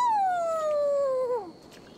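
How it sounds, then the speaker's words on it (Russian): A wolf in a video game lets out a single long howl that slides steadily downward and trails off, clear and fairly close, with no talking during it. "Это волк. Но волк тоже собака, нет?"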